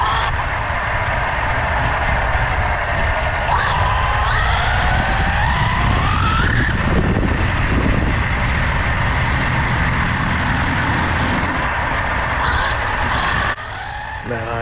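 A car bought off Facebook Marketplace moves at light throttle through a church parking lot, its engine a loud close drone with shifting whines and tire noise, while a voice talks over it.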